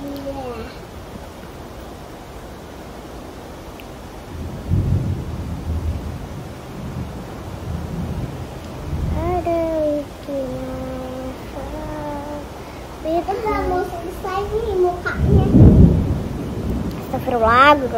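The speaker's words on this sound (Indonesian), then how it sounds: "Ini deras banget loh hujannya." Heavy rain pours steadily while thunder rumbles in low bursts, with one loud crack near the end; a voice and chatter are heard over the storm indoors.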